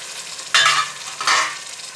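Vegetables and fenugreek leaves fry in oil for a soya vegetable pulav, with a soft sizzle broken by two loud scraping stirs of the spoon through the pan.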